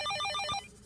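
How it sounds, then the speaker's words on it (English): A telephone bell rings in a rapid, bright trill that stops abruptly partway through, loud and alone without any voices. "Hulk, I believe Captain America is suggesting you answer the phone with words"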